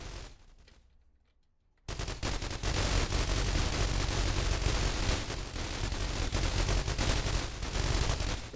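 A turret fires continuously in the video game The Walking Trade: after a quiet start, loud, rapid automatic bursts roar without a pause, dense and close, with no talking.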